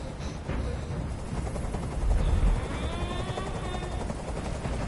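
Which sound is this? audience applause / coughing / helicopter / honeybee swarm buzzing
helicopter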